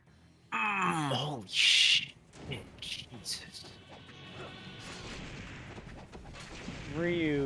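A burst of loud, harsh video game gunfire and crashing impacts, with people talking and exclaiming over the game sounds before and after.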